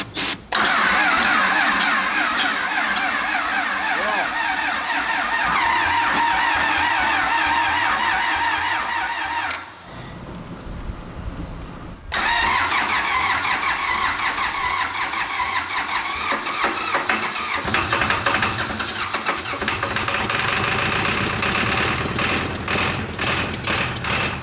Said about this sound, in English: First thing you do when you're starting an old diesel